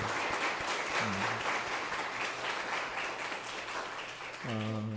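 Church congregation at a revival meeting applauding in a dense, sustained wave of clapping, steady and loud throughout, with brief sung or spoken voices rising over it near the start and end.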